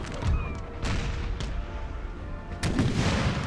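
Frigate cannons fire in a Napoleon Total War naval battle as a series of heavy booms. Several deep blasts land close together, with rumbling reports between them and a final strong shot near the end.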